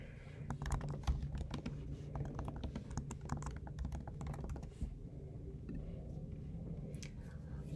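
Rapid computer keyboard typing while renaming a design draft, a dense run of close, crisp key clicks that thins out into a few scattered taps toward the end.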